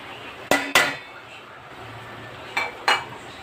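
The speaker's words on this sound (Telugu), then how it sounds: "మనము నానబెట్టిన బొరుగుని తీసుకొని ఇందులో కళాయిలో వేద్దాము" Two pairs of sharp metallic clinks from a spoon or utensil striking a kadai while soaked puffed rice goes into the pan, a double knock near the start and another a couple of seconds later, close and distinct.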